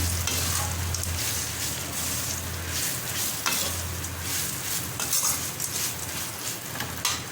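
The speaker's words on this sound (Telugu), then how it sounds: "ఇదంతా మనము ఈ మసాలా బాగా వీటికి పట్టేలాగా మిక్స్ చేసుకోవాలి" Ivy gourd fried rice stirred with masala in a hot pan, a loud continuous frying hiss under dense scraping of the spatula, with a low hum coming and going in the background.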